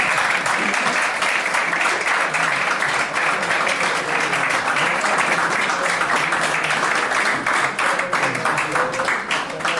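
Dense applause from a large audience fills a lecture hall, steady and loud throughout with many overlapping claps and no talk over it.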